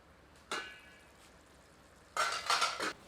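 A ladle stirs mutton kidneys in a kadhai: one short metallic scrape and clink, a pause, then a longer burst of scraping and clattering against the pan, close and fairly quiet.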